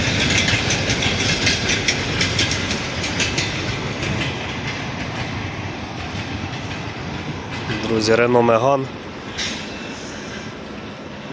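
A train rolls past on Ukrainian rails with a steady clickety-clack and rumble that swells briefly near the end, while someone talks over it close to the microphone.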